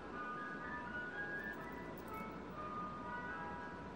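A faint ice cream truck jingle plays outside, its simple melody drifting over a steady low background hum as it passes at a distance.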